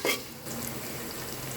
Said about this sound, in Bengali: পেঁয়াজটা আমি কিছুক্ষণ ভেজে নেব